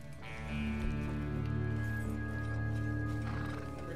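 Horse in Red Dead Redemption 2 gives a loud, drawn-out whinny over a layered game soundscape, with a steady tonal hum behind it and no speech.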